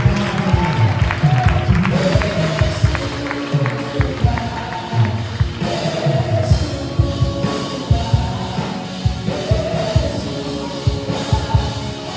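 A church congregation applauds the Lord during a Portuguese worship service, sustained clapping mixed with crowd noise and voices, steady and fairly loud throughout.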